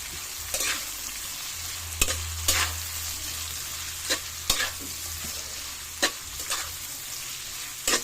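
Vegetable filling for coconut-pith lumpia is stirred in a sizzling pan, a spatula scraping in several distinct strokes over a soft, constant frying hiss.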